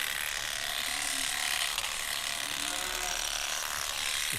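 Electric shearing clippers buzz steadily while cutting wool from a sheep, the fleece being opened out in long swipes; a continuous close mechanical whir with no talk.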